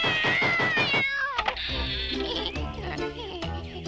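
A cat meows in a series of loud, close calls, with rapid repeated mews at first, then longer drawn-out cries.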